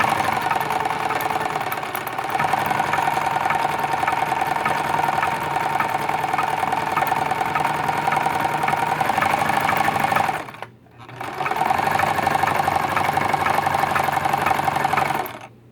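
A vintage Necchi 3101 sewing machine stitches in reverse with a steady, fast mechanical whir and hum, pausing briefly before running on again at close range, with no voices.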